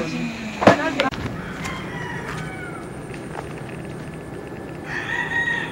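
Rooster crowing outdoors at a rural spot with a hut, one loud crow near the start followed by fainter calls, over steady background noise and distant voices.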